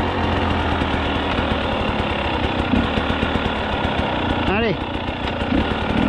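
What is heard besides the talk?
Husqvarna 300 TEi motorcycle engine revving under acceleration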